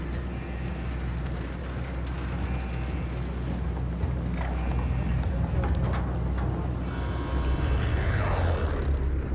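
A steady droning airplane engine in Call of Duty: Warzone fills the scene, loud and continuous, with faint mechanical clicks and rattles mixed in.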